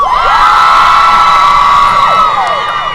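A large audience at a Harry Potter evening tribute cheers loudly for the Hufflepuffs, a dense, sustained roar of shrieks and whoops with high voices prominent, continuous throughout.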